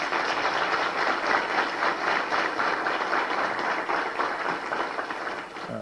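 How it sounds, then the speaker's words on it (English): A university audience at Savannah State applauds staff during an address, a continuous even rush of many hands clapping in a large room, sustained throughout. "Please give them a round of applause."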